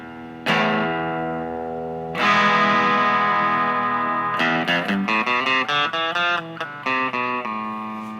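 An electric guitar through a Maxon overdrive pedal rings out two long distorted chords, then chugs through a quick series of choppy overdriven notes, loud and gritty.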